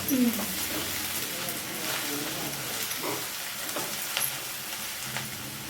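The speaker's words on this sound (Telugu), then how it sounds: "కాలేదా వేయించడం ఇంకా కావాలి ఇంకా ఫ్రై కావాలా" Chicken for biryani fries in a pan, giving a steady close hiss and crackle that runs throughout at even loudness.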